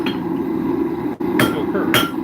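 Hammer striking hot iron at an angle while forging a point on a mulling iron, a few sharp metallic clanks over a low roar of background noise, close by.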